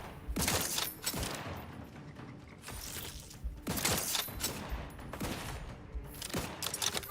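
Rapid bursts of gunfire in The Outer Worlds 2 as spider-like enemies are shot, loud and repeated in several volleys with short gaps between them, with no talking.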